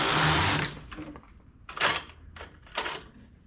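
Knitting machine carriage driven across a row at the same tension setting, a loud mechanical whirring burst at first, then several shorter rattling passes with pauses between.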